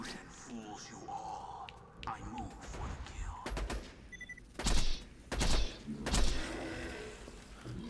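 Gunfire from the video game Borderlands 2: a few sharp, loud shots burst out in the second half over a busy in-game soundscape, with spaced bangs rather than a continuous stream.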